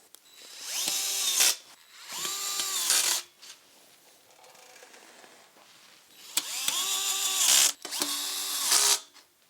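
A power drill driving H screws into a standing desk leg, four loud close bursts of whining motor, two then a pause with faint rustling, then two more, each spinning up and stopping sharply.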